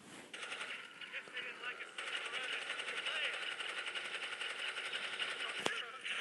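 Continuous rapid-fire gunfire in the video game Gangstar IV rattles on for several seconds, loud and dense, with a sharp crack near the end.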